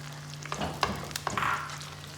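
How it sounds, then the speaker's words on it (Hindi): Egg halwa fries in a pan as sugar is added and stirred in, giving a brief soft sizzle with a few quick scraping clinks. "इसको हम इसी स्टेज पे ऐसे डालेंगे, साथ साथ इसको हिलाना शुरू करेंगे।"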